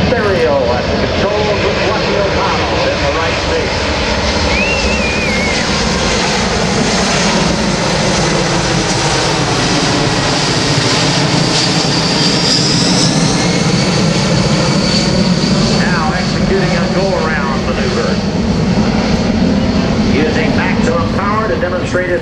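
C-17 Globemaster III jet transport flying slowly at an airshow with landing gear and flaps down, a loud sustained roar of engines that swells and shifts while an announcer talks over it.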